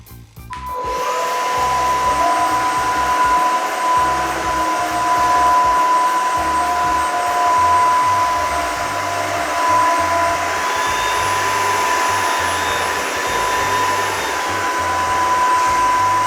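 A Eufy Mach V1 Ultra floor cleaner runs steadily over sand, giving a loud, continuous motor whine with a high tonal pitch and slight shifts in power throughout.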